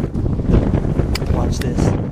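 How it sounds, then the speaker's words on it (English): Strong wind of about 35 miles an hour buffets a hunter's tree stand during a deer hunt, a steady loud roar and rumble of gusts hitting the microphone with no break. "It's like 35-mile-an-hour winds right now."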